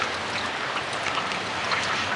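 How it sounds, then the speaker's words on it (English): Rain falling on a cold October day outdoors, a continuous even hiss of drops with no voices, steady and fairly close for the whole stretch. "It is more like raining."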